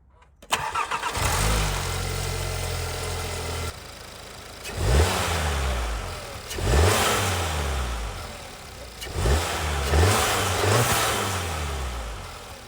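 A car engine with its standard intake starts, idles, then revs several times in short rising-and-falling bursts, loud and close with no talking.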